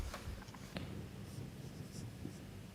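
Pen writing out a matrix equation during a control systems lecture, a faint continuous scratching with a few light taps, close but quiet against a low room hum, no speech.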